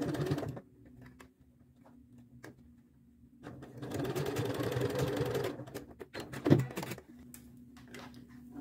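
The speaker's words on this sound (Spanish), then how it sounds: "Ya cosemos sobre recogido para cerrar." A sewing machine stitches tulle for a mantilla veil in two bursts, a short one at the start and a longer steady run in the middle, with quiet handling pauses between them.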